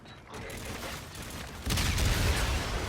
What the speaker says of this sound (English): Let's get some frags thrown.